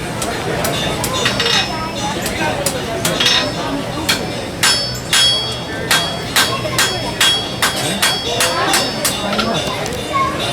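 Hot metal is hammered flat on an anvil at a blacksmith forge, with sharp ringing strikes landing in irregular bursts, some close together and some spaced apart, over a low background rumble while a person talks.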